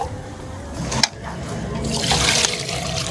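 Palm nut boiling water pours and splashes into pounded cocoyam for a traditional pottage, a close, continuous liquid rush that grows louder and brighter toward the end, with a small clatter partway through.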